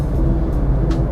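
A 2013 Kia Picanto SE engine running smoothly while driving, a steady low hum with road rumble heard from inside the cabin.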